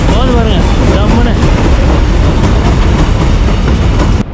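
A goods train passes close by at a border crossing, a loud continuous rumble and rattling clatter of wagons with faint squealing tones at the start, cutting off abruptly at the end.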